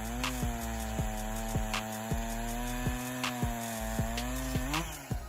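A chainsaw cuts through large logs, its engine buzzing loud and close with a steady tone broken by regular dips and surges as the chain bites into the wood.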